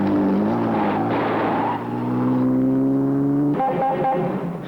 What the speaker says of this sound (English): I'm just going to have to use the supercharger